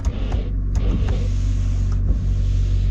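A car's windshield washer spraying water while the engine runs and the fog lights are on. A short electric pump whine sits over a low, steady engine hum, close up and with no talking.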